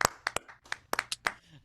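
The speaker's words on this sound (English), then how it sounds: "So clap it up for this guy" A small, sparse audience at a socially distanced comedy show gives scattered individual hand claps for a comedian, about a handful of sharp, close claps spread irregularly over a moment with quiet gaps between them.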